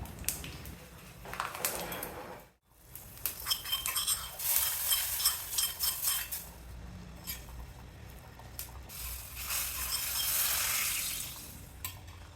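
Asafoetida and sambar powder are stirred into hot oil for a Pongal kadamba sambar, giving a close, steady sizzle with scraping stir strokes, briefly dropping out before resuming and swelling again.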